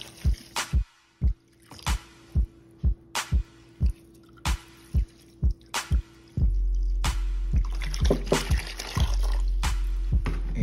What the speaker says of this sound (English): We're gonna add the distilled water,